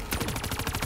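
Rapid automatic gunfire in Call of Duty zombies on the Gorod Krovi map, a loud, evenly spaced burst of about eight shots in under a second.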